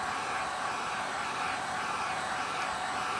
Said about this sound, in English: I'm gonna warm it up a little bit just by putting some heat from the heat gun on it